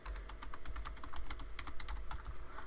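Rapid computer keyboard typing clatters steadily up close, a dense run of light clicking keystrokes over a low background rumble.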